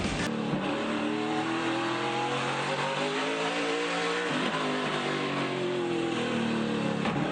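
Race cars roar past at speed on the Slinger Speedway oval during an SRX series race, engines loud and continuous with rising and falling pitch as cars pass, no one speaking.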